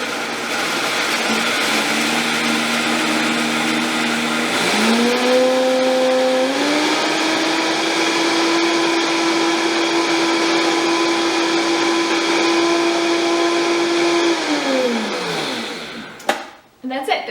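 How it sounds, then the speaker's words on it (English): Vitamix blender grinding oats into flour, a loud, close motor whine with a steady droning pitch that rises as it spins up, holds, then winds down and stops. "this is a Vitamix that works really, really well for blending"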